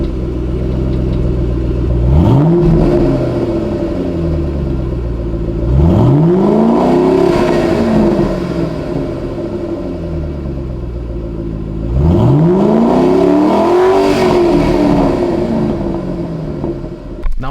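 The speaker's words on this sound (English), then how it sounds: "Let's go ahead and do some sound clips of the stock exhaust, get some revs" Stock exhaust on a Ford Mustang GT500 revved three times while parked, each rev swelling into a loud deep roar and falling back to a rumbling idle, close and without talk.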